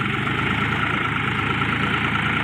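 A four-wheel-drive farm vehicle's engine labours under load in four-wheel gear on a village track, a loud, steady, close rumble with no pauses.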